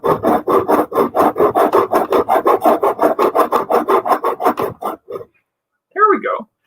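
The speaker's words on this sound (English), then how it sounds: "keep sawing back and forth." A hand saw rasps back and forth through wood in a steady, fast rhythm of strokes, close and loud, then stops as a brief voice follows.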